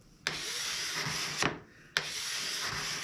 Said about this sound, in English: now I'm just going after it a little bit with my cabinet scraper